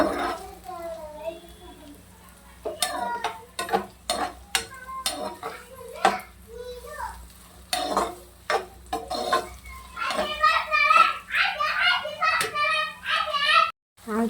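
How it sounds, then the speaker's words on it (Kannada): Onions frying in a pan for a broccoli recipe, with a spoon stirring and clinking against the pan over a light sizzle while a person talks throughout. "ಈಗ ಚೆನ್ನಾಗಿದೊಂದು ಗೋಲ್ಡನ್ ಬ್ರೌನ್ ಆಗೋವರೆಗೂ ಚೆನ್ನಾಗಿ ಫ್ರೈ ಮಾಡೋಣ"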